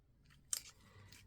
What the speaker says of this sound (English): Another thing not to be afraid to cut is your flowers.